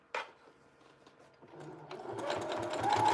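Sewing machine stitching a double rolled hem, starting with a click and slow taps, then building into a fast, steady mechanical whir that grows louder toward the end.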